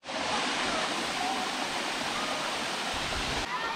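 A Wyoming waterfall roars in a steady, dense wash of rushing water, close and continuous for a few seconds with no break.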